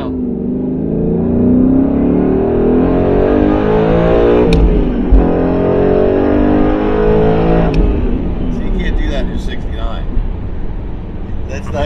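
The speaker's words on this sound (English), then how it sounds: "I did want to get a drive-by." A Ford Mustang Boss 302 drives past, its loud, close V8 engine note droning and shifting pitch continuously for about twelve seconds, not at full throttle.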